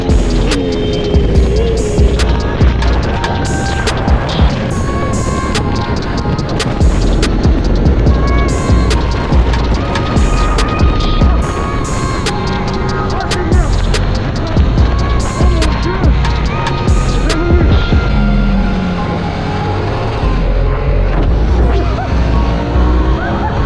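A KTM Super Duke motorcycle engine drones loudly and continuously on a race circuit, with throbbing revs rising and falling under intermittent talk.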